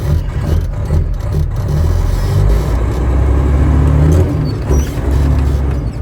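The repaired 389 engine of a big rig truck rumbles loud and close, rising and falling as the throttle is blipped, with a deep, steady low-end growl.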